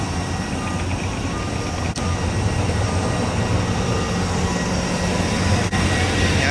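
A steady, loud broadband roar of a small airplane's engine fills the whole span, a constant dense rumble heard from close by with no pauses.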